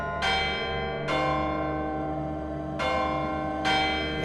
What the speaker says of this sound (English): He spoke before the hour bell sounded, which it now did with a deep, dull, hollow, melancholy 1